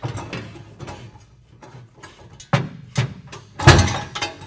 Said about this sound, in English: Get your lifting device into position and drop it through the socket